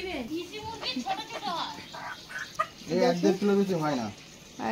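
Desi chickens, including black hens, cluck at a market stall in brief bursts, fairly near and mixed with people talking nearby.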